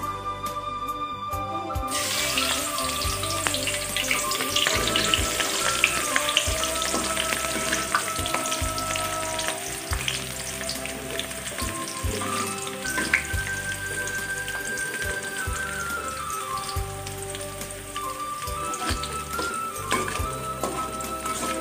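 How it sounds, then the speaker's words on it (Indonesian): Steady, loud sizzling of shallots frying in hot oil for eel balado, continuous throughout with occasional clinks and scraping of a utensil, no talking. "Kita goreng bawang merahnya sampai berwarna kekuningan"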